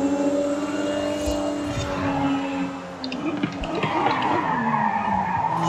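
Tires skid and squeal as a Toyota Supra corners in the Forza Horizon 5 racing game, a long loud sustained screech with wavering tones over steady engine drone.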